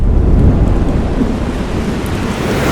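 Thunder rumbles through a heavy rainstorm as dense, loud rain pours steadily and fills the whole stretch with a deep, continuous roar.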